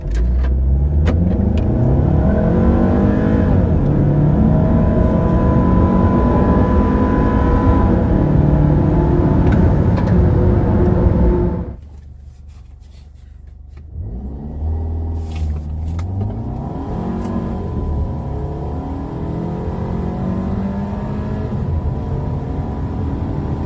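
A stock Volkswagen Passat 1.8 TSI engine drones steadily at close range while driving, cuts out abruptly for a couple of seconds, then resumes with a rising, revving rumble.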